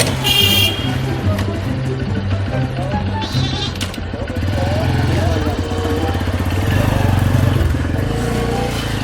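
Motorcycle riding off on a village road with a steady engine rumble under loud talk that rises again near the end, along with a brief bleat-like sound.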